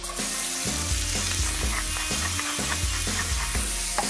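Sliced chili with seeds and thin slices of garlic sizzling in a tablespoon of olive oil in a pan: a loud, continuous close-up fry with crackling spits and rhythmic stirring or shaking pulses.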